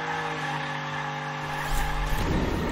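A toy car races in the video game Hot Wheels Unleashed, its engine whining steadily before a burst of tire skid and rough scraping near the end, loud and close with no talk.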